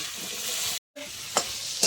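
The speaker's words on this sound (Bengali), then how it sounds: "দিয়ে কচু আলুটাকে ভালো করে ভেজে নেব।" Taro and potato chunks fry in hot oil with salt and turmeric, giving a steady close sizzle that drops out for a moment and then returns, with two clear utensil clinks from stirring.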